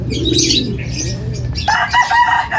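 Young racing pigeons in a loft coo softly at close range, then a sudden burst of wing flapping breaks out as birds shift about, with no voices.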